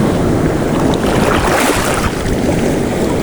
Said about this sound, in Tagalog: Ang lakas ng alon, grabe.